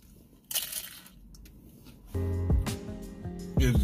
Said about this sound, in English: That new crunch right there